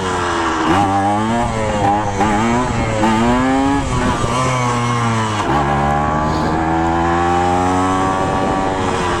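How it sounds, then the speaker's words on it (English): A Kawasaki KE100 motorcycle engine revs loud and steady during a wheelie, its two-stroke whine rising and falling in pitch across several throttle surges. "We'll do a wheelie. Hell yeah, the wheelie."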